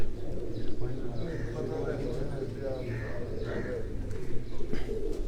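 Migratory pigeons coo on a rooftop loft, with soft repeated calls over a dense, steady background of wind and rumble.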